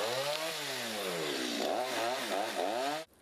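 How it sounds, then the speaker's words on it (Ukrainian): A petrol chainsaw cuts up an old acacia tree, its engine buzzing loud and close with pitch dipping and rising under load, then abruptly stopping near the end. "Ножовками и бензопилами ветхую акацию убрали за 15 минут."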